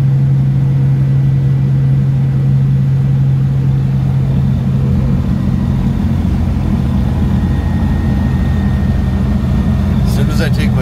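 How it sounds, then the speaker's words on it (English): A loud transmission whine and engine rumble from a 1949-54 Chevy coupe hot rod cruising on the road, a steady droning hum with a strong low tone that holds throughout, close and continuous. "So I think it's the transmission that's loud."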